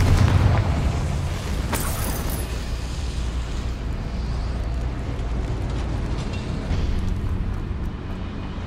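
A Confringo blasting spell exploding in the Hogwarts Legacy video game, a loud booming blast with a sharp crack followed by a sustained, rumbling roar that fills the whole stretch.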